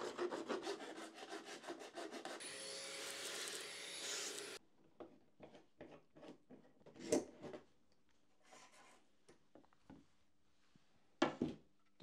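Someone hand-files or sands the edges of a brittle acrylic part at close range: several seconds of steady rasping strokes, then quieter scattered scrapes, taps and knocks.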